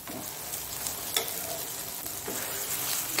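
Just after being flipped, a sesame dosa fries on a hot pan with a steady, gentle sizzle and a couple of faint utensil taps, close and even, with no voices.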